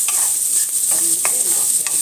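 Garlic frying in hot oil, a steady close sizzle with a few soft stirring scrapes and clicks, no voices.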